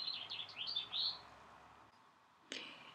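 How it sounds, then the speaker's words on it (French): Small garden birds chirp and tweet in quick bursts, faint and distant through open windows, followed by a quiet pause and a short sharp sound near the end. "les petits oiseaux que vous entendez, j'ai pas d'oiseaux en cage, j'ai un jardin et surtout les fenêtres ouvertes"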